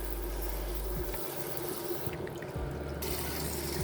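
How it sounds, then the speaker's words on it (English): Cold tap water running over green beans in a strainer set over a bowl, a steady rushing splash with a low hum underneath that briefly drops out, heard alone. "Running cold water over it."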